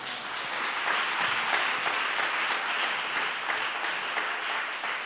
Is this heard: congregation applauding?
yes